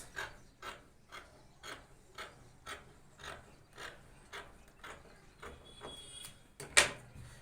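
Scissors cutting the neckline out of kaftan fabric by hand, heard as a faint, steady series of about a dozen evenly spaced rasping snips, ending with one sharper, louder cut.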